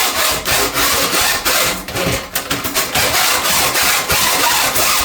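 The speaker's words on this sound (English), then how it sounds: "shove that coil spring down, spin it around, give it some spins and some pulls" A plumbing auger coil spring is spun and pulled through a toilet drain and P-trap, giving a steady, loud, close scraping and rattling with rhythmic pulses and no talk.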